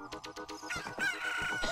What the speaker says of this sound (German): Danke, Hahn, das hat super gepasst.